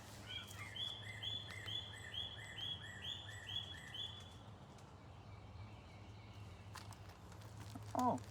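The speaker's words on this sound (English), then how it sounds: "there's a little bird right behind me. He made a little sound" A small bird behind someone outdoors gives a series of repeated chirping calls, quick and high, fairly near but faint over quiet background noise, followed by a brief sharper call near the end.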